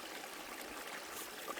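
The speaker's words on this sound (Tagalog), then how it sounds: "dinig na natin yung agos ng tubig na nandito sa bahaging ito" The stream flowing below Dao Falls in Samboan, Cebu, heard as a soft, even hiss of running water, faint and steady without any voices.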